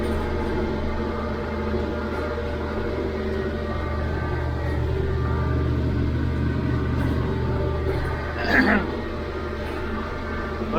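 A Massey Ferguson 1105 tractor cutting hay with a Krone 2801cv mower on a dewy morning gives a steady, loud engine drone with a low rumble throughout, and a brief swell near the end.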